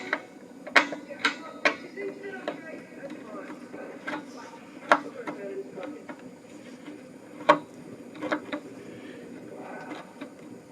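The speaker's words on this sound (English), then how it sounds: "let's just unscrew this so we can get the things in place." A screwdriver unscrewing parts from a Squier Strat SE guitar, sharp irregular clicks and small metallic ticks scattered across the clip, close and moderately loud, with a voice speaking intermittently alongside.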